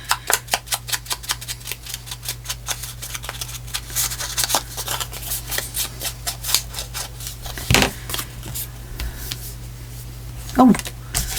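Paper being cut by hand with scissors for a traveler's notebook craft project, a steady run of crisp rhythmic snips close to the microphone, with someone talking over part of it and a few handling bumps near the end.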